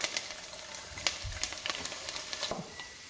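Twelve garlic cloves hitting a generous amount of hot oil for gosht achar, giving a soft, steady sizzle with small crackles and a couple of low thumps as they drop in, close and fairly quiet with no talking.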